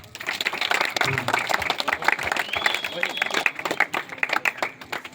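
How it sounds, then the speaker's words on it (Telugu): Audience clapping at a coaching centre's annual day celebration, a dense steady patter of many hands lasting several seconds, with a voice talking over it and crowd murmur underneath. "క్లాప్స్ మా"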